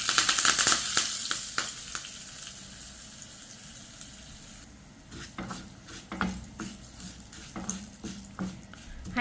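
Mustard seeds, urad dal, turmeric and curry leaves crackle and sizzle in hot oil for a tomato chutney tempering, loud and dense at first, then thinning out, with occasional clinks of a pan or utensil.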